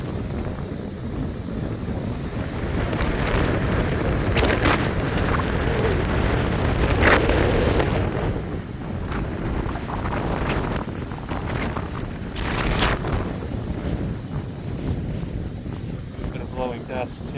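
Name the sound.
strong wind before a thunderstorm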